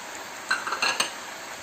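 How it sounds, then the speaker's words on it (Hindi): A spoon scrapes and clinks against a cooking pot while spices such as red chili powder and ground green cardamom are stirred into chicken korma, with a few quick metallic taps amid a faint sizzle; no talk. "और इसको अच्छी तरह से मिक्स कर देते हैं।"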